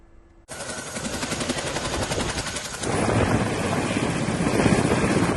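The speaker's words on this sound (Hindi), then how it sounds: "वायुसेना का ये हेलीकॉप्टर चिनूक और MI-17 कुछ इसी तरह से केदार घाटी में मददगार बने हुए हैं।" Indian Air Force Chinook and MI-17 helicopters on rescue work in the Kedar valley give off a loud, steady rotor roar that starts abruptly and swells louder partway through, with rapid chopping beats throughout.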